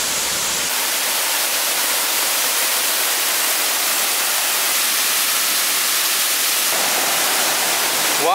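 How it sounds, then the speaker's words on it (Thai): A waterfall roars as a broad, constant rush of falling water, loud and close throughout, with no talk over it. "ว้าวน้ำตกสวยมากเลยอ่ะ"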